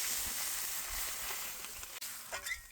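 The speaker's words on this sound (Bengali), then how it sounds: "এখন আমি পরিমাণ মতো জল দিয়ে দেবো" Water poured into a pan of sizzling fried spice paste for Bhola fish curry, a steady close hiss and crackle that briefly cuts out, then bubbles and spits again at the end.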